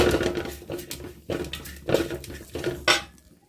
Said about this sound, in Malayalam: ഇതിനകത്ത് നമ്മൾ മുളക് പൊടി മല്ലിപ്പൊടി മഞ്ഞൾപ്പൊടി മീറ്റ് മസാലപ്പൊടി ഇതെല്ലാം ഇട്ട് നമുക്ക് നല്ലവണ്ണം ഒന്ന് വഴറ്റിയെടുക്കാം